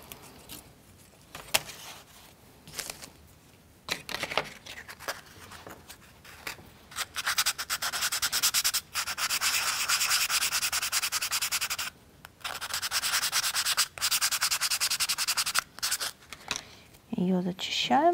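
A small model engine part for a U-9 Grand Prix car's V8 is sanded by hand, with dry rubbing strokes starting intermittently, then going long and steady, close to the microphone, with brief pauses and some talking.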